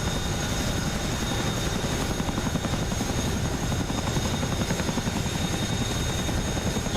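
Chinook twin-rotor helicopter in the DCS flight simulator, with rotor thump and turbine whine running steady and loud throughout, no talking.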